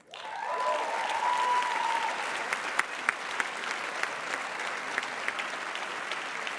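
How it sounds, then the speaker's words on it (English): Audience at a university commencement ceremony applauding an award for outstanding research, a loud sustained burst of clapping that swells quickly and carries on steadily with a few sharper claps standing out. "I don't want to step on your applause, it's well deserved."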